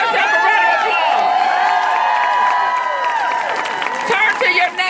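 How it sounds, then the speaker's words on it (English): Loud crowd at a Women's March sister rally in Norfolk, Virginia, clapping, cheering and whooping together, with shrill excited voices rising over dense applause throughout. "All right, give yourself a round of applause."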